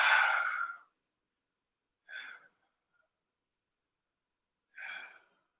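Slow, deep yoga breaths during a vinyasa flow: a long, full exhale at the start, then two shorter, softer breaths a couple of seconds apart, alone in a quiet room.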